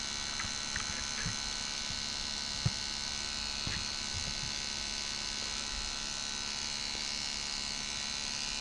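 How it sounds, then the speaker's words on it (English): A D. C. Johnson FAC-1 fuel control unit running in open loop at full throttle gives a continuous electrical hum and buzz with a few faint clicks, steady and close. "There it is operating in open loop, cold or full throttle condition."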